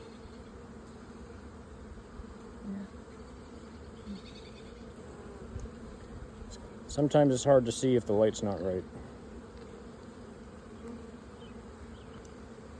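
Honeybees hum steadily inside an open hive that holds drones among the workers, with a louder burst of close buzzing partway through while a person talks quietly nearby.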